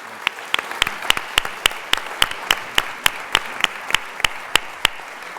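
An audience claps after two lectures at the Radcliffe Institute, with distinct, evenly spaced claps in a steady rhythm throughout.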